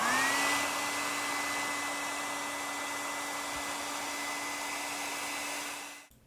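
A heat gun blows steadily on heat shrink tubing over a resistor, a constant airy whir with a tonal hum that runs evenly, close by, then cuts off abruptly near the end.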